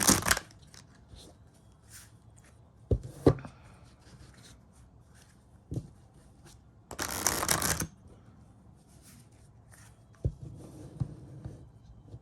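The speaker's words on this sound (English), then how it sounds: "I'll just keep my description up on the screen while I shuffle." Tarot cards being shuffled by hand at close range, producing scattered soft riffles and taps with a few sharper bursts, including one longer flurry in the middle, separated by quiet pauses.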